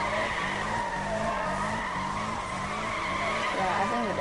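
In Need for Speed, a car drifts with loud, sustained tire squeal and skidding over a revving engine whose pitch rises and falls in repeated gear-like steps, close and continuous.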